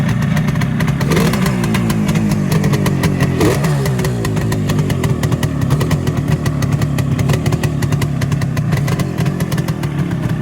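Vintage twin-cylinder carbureted kick-start motorcycle running steadily, a loud close engine with a rapid, slightly uneven thumping beat and a brief throttle blip, continuous for about ten seconds with no speech.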